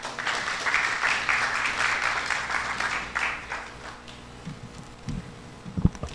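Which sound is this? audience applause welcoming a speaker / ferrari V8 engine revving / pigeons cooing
audience applause welcoming a speaker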